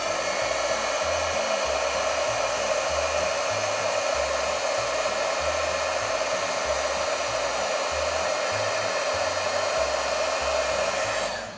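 A heat tool blows steadily on embossing powder coating a glitter-dipped brad for a Christmas card, a constant loud whirring air rush with no talk over it.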